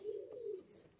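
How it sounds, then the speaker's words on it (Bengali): A pigeon gives one low, close coo lasting about half a second, followed by quiet room noise. "বিরাট অ্যাগ্রেসিভ পায়রা।"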